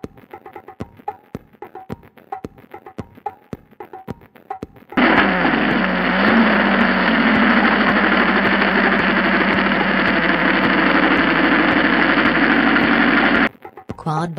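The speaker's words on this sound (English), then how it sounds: "Quad bike." After a series of light clicks and taps, a wooden toy quad bike gives off a loud, steady electronic engine idle that drones for about eight seconds before stopping suddenly.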